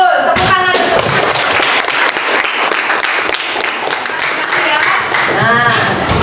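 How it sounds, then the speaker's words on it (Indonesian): A classroom of students applauds in dense, steady clapping that lasts throughout, with voices mixed in. "Tepuk tangan."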